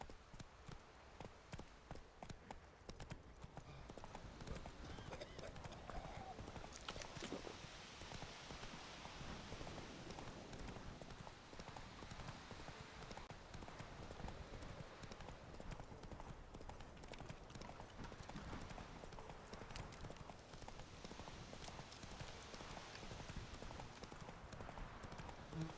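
Roach the horse gallops in The Witcher 3 with a continuous, fast clip-clop of hooves that is fairly faint and runs throughout, with no talking.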